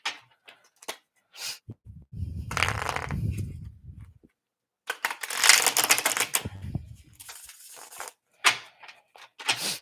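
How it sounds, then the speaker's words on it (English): Tarot cards riffle and slap in two bursts of shuffling, separated by a pause, with scattered light taps and clicks around them. "One last shuffle, and I will pull from the bottom of the deck."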